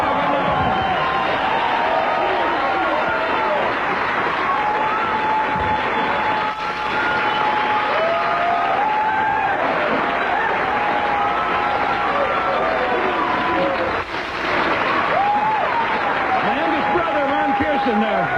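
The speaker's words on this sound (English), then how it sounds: "let's keep the applause going for all 5 of tonight's comedians" A comedy club audience at The Improv applauding steadily for the evening's comedians, a dense continuous wash of clapping, loud and close, with a voice speaking over it.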